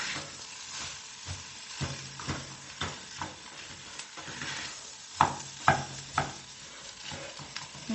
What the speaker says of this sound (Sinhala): මිරිස් එකට එකතු වෙනකම් පොඩ්ඩක් හැඳි ගන්න